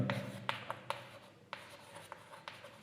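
A pen or pencil writes by hand on paper during a class 8 maths lesson on a rhombus's diagonals, with scratchy strokes and sharp taps at irregular intervals, near and fairly quiet.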